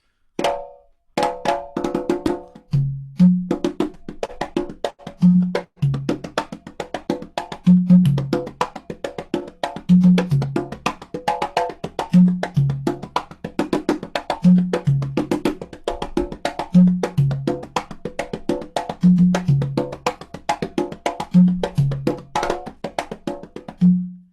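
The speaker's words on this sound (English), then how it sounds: "these instruments here, the congas" Congas play a steady, rhythmic pattern of sharp slaps and deep open tones, close and clear, with no other instruments or voices.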